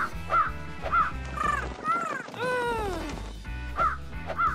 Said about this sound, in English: Crows want to eat pumpkins.